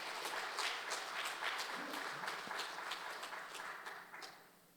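A church congregation applauds during a Sunday service, with many hands clapping in a dense, roomy patter that is steady at first and then fades away near the end.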